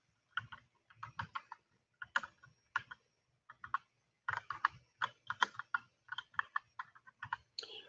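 Code typed on a computer keyboard in short bursts of rapid, crisp key clicks separated by brief pauses, close and clear with no talking.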